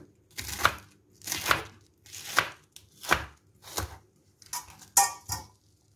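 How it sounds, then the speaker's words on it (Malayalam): A knife chops through cabbage leaves on a board in seven crisp, evenly spaced strokes, close and distinct with quiet gaps between them. "അപ്പം ഈ ഒരു വലിപ്പത്തിൽ ഞാൻ അരിഞ്ഞു മാറ്റുവാണ്."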